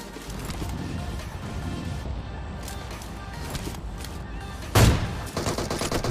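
Gunfire in a battle royale video game as a player with a buggy shoots at an enemy on a hill, dense crackling game sound throughout with a loud sharp shot near the end.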